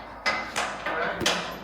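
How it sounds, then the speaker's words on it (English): Hammer blows ring out while a drag-and-drive car is built with tubs, roll bar and rear end going in: four sharp, loud metallic strikes about a third of a second apart, each with a short ringing tail, close by in a quiet garage. "Need a bigger hammer."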